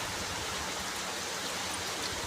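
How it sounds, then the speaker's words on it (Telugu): Heavy rain pouring outdoors, a dense, continuous hiss of falling water at steady loudness from start to finish, with no voices. "మస్తు వర్షం పడుతుంది"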